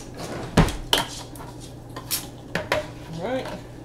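Metal kitchenware such as a strainer being picked up and set down, giving several sharp clanks and rattles of pots and utensils at close range in an uneven sequence.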